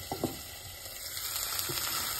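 Hot oil sizzles in a pan with browning onions for a vegetable palav, a faint, steady crackle with a couple of brief stirring knocks near the start.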